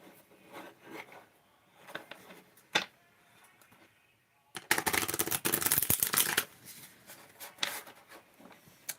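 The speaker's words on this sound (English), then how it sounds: "I'm trying to break this deck in by switching how I shuffle" Cards riffle and snap in a brief loud burst midway, surrounded by softer handling clicks and taps close to the mic.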